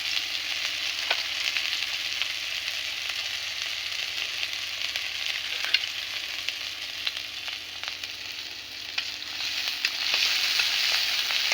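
Chopped onion, garlic and chili frying in a village kitchen pan, a continuous close sizzle that holds steady throughout with faint occasional crackles and pops.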